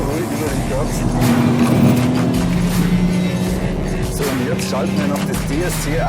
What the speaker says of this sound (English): It's fascinating to feel the car travelling so smoothly over the curbs.